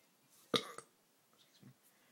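Demo Man from Team Fortress lets out a loud, abrupt burp up close, a single guttural blast trailing into a shorter second gulp, followed by a faint low grunt.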